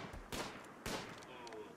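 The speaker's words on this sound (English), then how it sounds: "I hear gunshots." Two sharp gunshot cracks from the colony-building video game RimWorld, spaced about half a second apart, each trailing into a noisy tail over a quiet game background.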